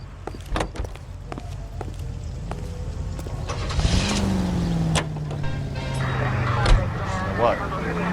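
A car engine in the video game L.A. Noire starts with footsteps and a door beforehand, then settles into a steady driving rumble with a rising hum, while people talk over it.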